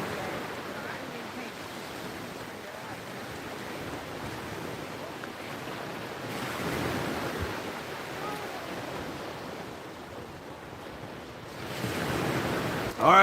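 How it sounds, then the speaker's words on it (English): Wind gusts across a beach during surf fishing, a broad rushing roar with breaking waves beneath it, swelling and easing in uneven surges, loud and close to the microphone. "A little windy again, but that's okay."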